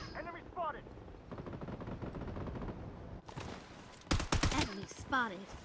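Rapid automatic gunfire in the shooter game Blood Strike with the KAG-6 rifle, long sustained bursts followed by louder close sharp shots, with short bits of someone talking.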